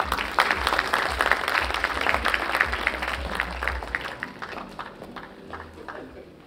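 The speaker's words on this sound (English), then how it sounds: "can we have a round of applause, please?" Applause for the moderator at a solar leadership session in India, a moderate round of clapping from a seated audience that gradually thins and fades.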